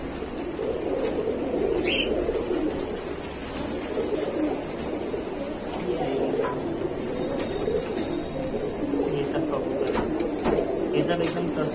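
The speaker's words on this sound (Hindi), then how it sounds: "चलते है कबूतर देखने।" Pigeons kept for sale coo in a continuous, layered murmur close by, with occasional wing flaps and chirps mixed in, while people talk intermittently over the birds.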